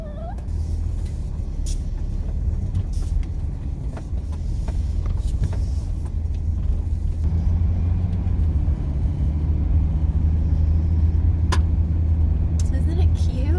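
A car engine starts and settles into a low, steady idle inside a van, with faint scattered noises over the rumble.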